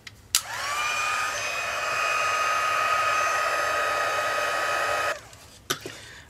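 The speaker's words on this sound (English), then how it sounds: "now I'm going to use my heat gun" A heat gun blows steadily for about five seconds, drying rose gold embossing on a handmade card; it makes a loud, even whirring rush that starts and stops abruptly, with a few faint clicks after it.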